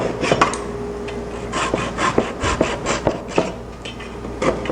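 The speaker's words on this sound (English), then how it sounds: "And I cut them off with my dovetail saw." A dovetail saw cutting through wood at a miter joint, giving close, rasping back-and-forth strokes in an uneven rhythm of about a dozen pulls.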